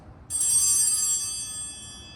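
A bright altar bell rings once during Catholic Mass as the priest receives from the chalice, a sudden shimmering strike that rings out and slowly fades in a quiet church.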